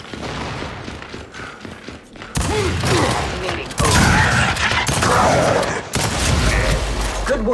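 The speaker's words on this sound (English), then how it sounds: "Flashbang out!" Gunfire and a flashbang grenade blast in the video game Gears 5, with bursts of rapid shots, booming impacts and mechanical clatter at close range. Loud volleys break in abruptly over a busy battle background.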